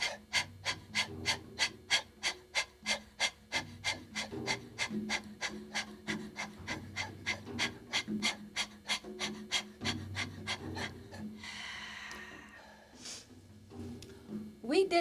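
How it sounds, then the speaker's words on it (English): Rhythmic, forceful panting breaths during a yoga breathing exercise, a steady series of about thirty sharp exhalations close to the microphone, followed by a softer, longer breath near the end. "when you're panting, it's almost like you're releasing all the air out"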